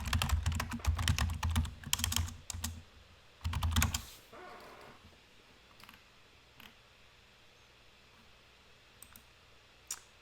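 Rapid bursts of typing on a computer keyboard, dense clatter for about four seconds, then mostly quiet with a few isolated key taps near the end.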